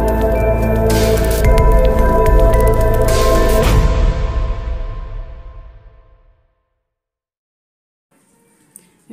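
An electric beater whips eggs with vanilla essence and sugar for a red velvet cake batter, a loud, steady whirring churn that winds down and stops around six seconds, followed by quiet.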